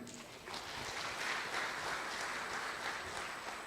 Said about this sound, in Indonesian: sekali lagi kita berikan aplaus buat kita semuanya